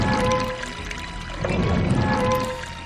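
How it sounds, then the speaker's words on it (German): Water gushes and pours loudly in Resident Evil Code: Veronica X as it is pumped out, a continuous rushing flow that swells again midway with a faint tonal hum beneath. "damit wir das Wasser abpumpen können"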